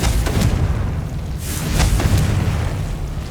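Confringo spell explosion in the game Hogwarts Legacy, heavy rumbling booms with a couple of sharper blasts layered together, loud and close for a few seconds.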